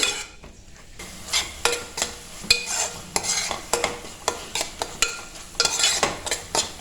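Chili powder masala for tomato rice is stirred in a pan over a low flame. A spoon scrapes and knocks against the metal in quick, repeated strokes over a soft sizzle, close and clear.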